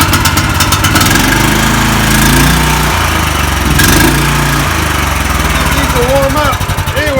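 A Predator 13hp engine swapped into an EZGO golf cart runs loudly and steadily up close, a rough chugging drone that varies slightly in pitch as it revs.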